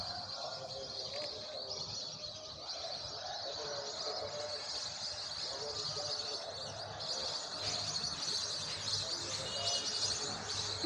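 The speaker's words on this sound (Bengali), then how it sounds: "কিচিরমিচির শব্দ শোনা যাইতেছে।" Many birds chirp and twitter around a large pond in Chittagong, a steady dense chorus of small calls continuing throughout with no voices.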